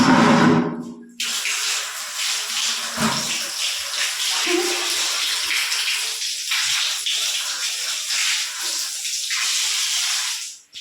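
Water splashes and pours steadily close by as feet are washed, a continuous rushing flow with small surges and a brief cut near the start.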